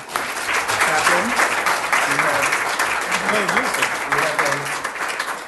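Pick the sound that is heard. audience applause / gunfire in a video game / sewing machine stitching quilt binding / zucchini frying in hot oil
audience applause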